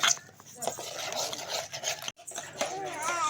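Chopped onions stirred into a thick pongal batter, a steady wet squelching and scraping close by, with a brief pause midway, while a person talks over it.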